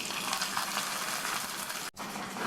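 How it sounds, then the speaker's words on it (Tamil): Cashews fried in a tempering for wheat rava kichadi sizzle steadily and loudly at close range, a dense continuous crackle that breaks off for an instant near the end before resuming. "தாளிப்பை கிச்சடியில் சேர்த்துடலாம்"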